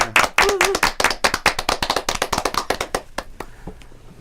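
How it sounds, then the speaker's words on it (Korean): A group of podcast guests and hosts clap hands together in a quick burst of many claps, close and loud, fading into scattered final claps. "우리 박수 한번 힘차게 치면서 한번 시작해 보겠습니다"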